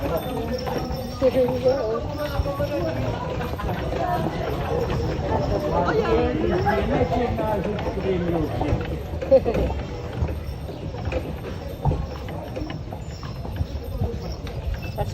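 Horse hooves clip-clop steadily on the narrow streets of Malta's ancient walled former capital as a horse-drawn carriage passes through the gates, with people talking over the rhythmic hoofbeats throughout.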